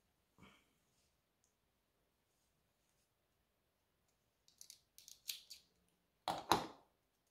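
Scissors cut through wool yarn while a hanging Christmas tree decoration is made, giving a faint early click and then a cluster of crisp close snips, ending in one louder, longer cut.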